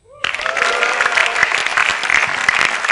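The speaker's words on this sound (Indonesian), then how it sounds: "Yang jelas tepuk tangan buat komik-komik sebelum saya." An audience at a stand-up comedy show bursts into sustained applause, a dense, steady clatter of clapping that rises quickly and holds at full strength.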